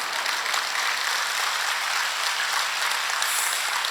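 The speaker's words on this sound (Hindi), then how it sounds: "आप तालियां बजा दो बस" A large crowd claps continuously at a gathering of saints, the dense broadband applause holding steady and fairly loud throughout.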